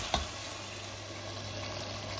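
Onions, peppers, garlic, celery and ginger simmering in a pan for a tomato and okra fish sauce, giving a steady, soft sizzle with one brief clink near the start.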